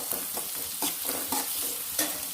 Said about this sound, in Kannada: ಸೊ ಚೆನ್ನಾಗಿ ಫ್ರೈ ಮಾಡ್ಕೋಬೇಕು